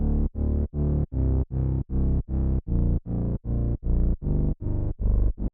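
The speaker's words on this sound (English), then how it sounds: "So the thing I added here was just a little bit of vintage distortion and a low and high cut" A fast techno track with vintage distortion and low and high cut filtering pumps out loud, evenly spaced chopped chords in a steady driving rhythm, gritty and mid-focused.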